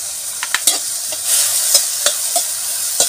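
Moth beans (matki) roasting in oil with turmeric and salt, stirred in the pan: a continuous bright sizzle broken by sharp scraping strokes of the spoon at irregular intervals, close and clear, no voices.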